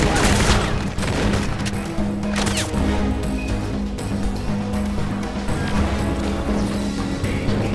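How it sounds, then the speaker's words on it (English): Bursts of machine-gun fire in the shooter Crysis, clustered in quick rattling volleys that are loudest near the start, with a droning musical background underneath and a little talk. "can the machine gun reach that?"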